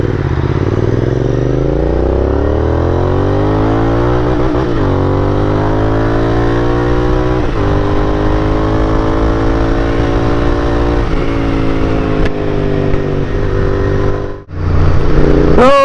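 A motorcycle on a Sunday long ride, recorded close with a loud steady engine drone that rises and falls through repeated accelerations and gear changes, plus wind rumble, with a sudden brief dip near the end.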